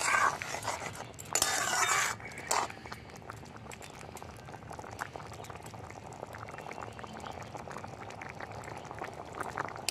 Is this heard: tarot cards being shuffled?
no